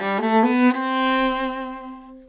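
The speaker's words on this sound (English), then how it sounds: "If we play detaché, which is separate bows" Viola bowed detaché with separate strokes: three short, distinct notes step upward, then a final note is held and slowly fades, played close and clear with no voices.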